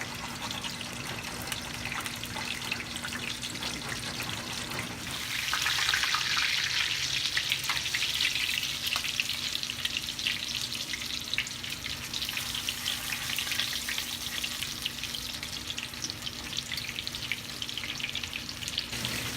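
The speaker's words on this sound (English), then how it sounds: "we're just going to let it saute or brown up a little bit" Breaded chicken cordon bleu sautés and browns in a hot pan, a loud, continuous crackling sizzle that swells after a few seconds and holds steady throughout.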